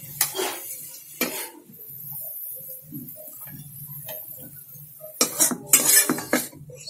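A cooking pot of beetroot halwa is lifted off a home stove with a few sharp metallic clanks and scrapes, loud bursts at the start and again near the end, with quieter clinks and a faint ticking in between.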